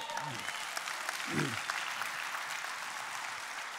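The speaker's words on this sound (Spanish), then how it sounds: "Dale un aplauso al Señor." A church congregation claps for the Lord during a sermon, a steady broadband wash of applause running the whole time while a preacher's voice cuts in briefly near the start and middle.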